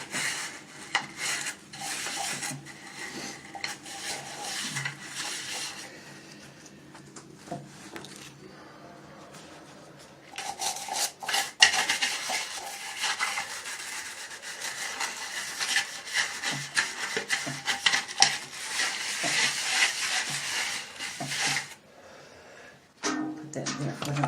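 Rough, rhythmic rubbing and scraping of a dish soap bar scrubbing away grime, loud and continuous with a brief quieter stretch partway through; a person talks over it.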